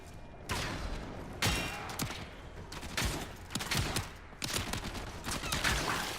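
Rapid video game gunfire from Warframe: several loud, close bursts of fast shots with brief gaps between them, fired at a boosted rate of fire.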